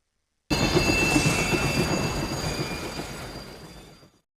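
A train rumbles along the rails in a steady, dense roar that gradually fades away, with faint high-pitched metallic squealing.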